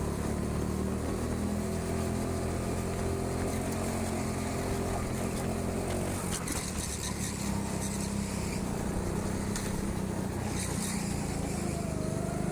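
A go-kart engine runs steadily on an indoor kart track in a heatwave, a continuous buzzing drone that stays loud throughout, with a shift in pitch around the middle.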